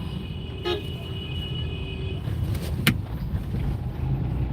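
Evening rush-hour traffic on a Surat city street around seven o'clock, with a constant low motor hum and engine noise as a few short car-horn toots cut through, one of them sharper and louder near the middle.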